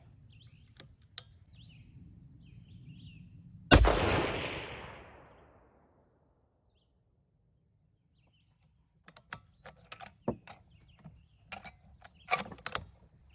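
A single loud rifle shot from a Savage Axis II precision rifle cracks out and rings away over a few seconds, followed by quiet and then scattered faint clicks and handling sounds, with insects buzzing in the background.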